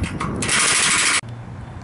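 Hand tools work a winch stand loose from a boat trailer for a third pontoon installation, giving a loud steady metallic ratcheting and grinding that runs for about a second, then stops abruptly into quieter clanking.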